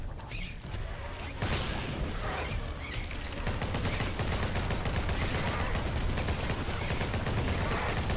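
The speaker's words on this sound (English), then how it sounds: "Max out that minigun." A minigun fires in a rapid, continuous roar in a video game, joined by dense overlapping gunfire and impacts that grow louder and stay sustained throughout.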